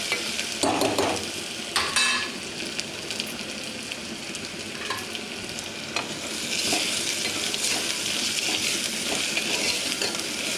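Food sizzles and fries in a pan while being stirred, with steady hissing throughout and a few sharp scraping and clinking knocks of a utensil against the pan, no voices present.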